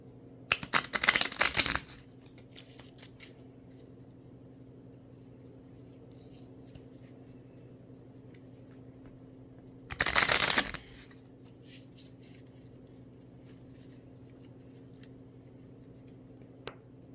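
Wellness oracle cards are shuffled in two short, crisp riffling bursts, one near the start and one about midway, with quiet room tone between.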